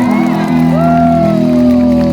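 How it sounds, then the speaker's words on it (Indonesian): A live concert crowd at an outdoor music festival shouts and cheers loudly and continuously, with a sustained vocal or instrumental tone carrying over the noise. "Tepuk tangan sekali lagi."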